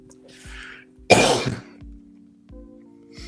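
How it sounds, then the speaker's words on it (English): A single sharp, harsh cough bursts out after a soft breath, standing out briefly over a low steady background hum. "I can already tell there'll be some coughing"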